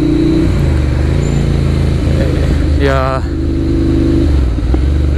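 A Ducati Monster 795 motorcycle engine idles loudly nearby, then rises in one quick rev and falls back to idle while a person speaks a word.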